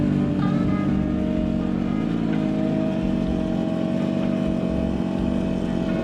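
A learner driver's car passes at night, a steady engine hum with whining tonal bands, continuous and fairly loud, mixed with the rumble of a nearby motorcycle and no talk.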